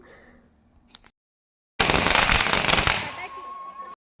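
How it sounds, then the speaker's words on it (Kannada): Firecrackers crackle and burst in a dense, loud barrage lasting a couple of seconds at a village temple festival for Nandikeshwara Swamy, after a quiet stretch with faint talk. "ಇನ್ನು ಮೆರೆ ದೇವರಿಗೆ ಪಟಾಕಿ ಎಲ್ಲ ಹೊಡೆದು"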